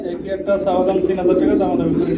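Fancy pigeons, including a big blower pair, coo in soft, low, rolling calls that continue steadily, with voices and background chatter mixed in.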